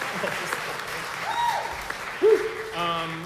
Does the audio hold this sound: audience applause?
yes